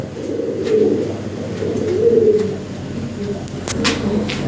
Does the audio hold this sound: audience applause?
no